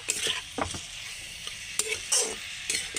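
Tomato and dried fish chutney is stirred in a pan: soft sizzling runs beneath a series of short, uneven scraping strokes of the spoon against the pan, close and moderately loud, with no voices.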